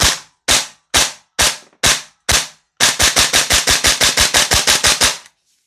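A Noveske Ghetto Blaster gel blaster fires sharp, close, loud shots: six single shots spaced roughly half a second apart, then a faster string of about fifteen rapid shots, in semi-auto.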